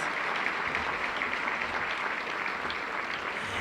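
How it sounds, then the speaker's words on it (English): A ballroom audience at a debutante cotillion claps in a steady, dense round of applause, even and sustained throughout, heard from within the crowd with no voices above it. "Let's give them another round of applause."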